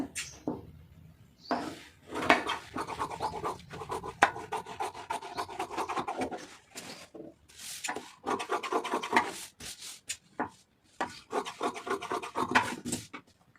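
Scissors cut through blouse fabric for a designer Aari blouse, producing a run of close, dry snipping and rasping strokes in irregular bursts with short pauses between them, and no talking.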